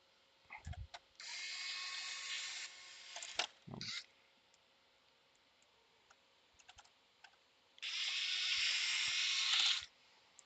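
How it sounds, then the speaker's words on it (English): Two bursts of a small electric screwdriver driving screws during electronics board repair, each about a second and a half, with faint clicks and handling noise between them. "Okay, I'm gonna put a couple screws and then we'll go ahead and test it."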